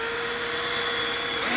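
A power drill whines steadily at high pitch, drilling out plastic screws on a Chevy Silverado inner door handle, running continuously close by, with a brief pitch shift near the end.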